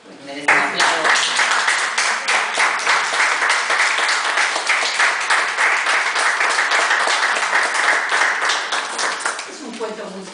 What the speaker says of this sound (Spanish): Merece un aplauso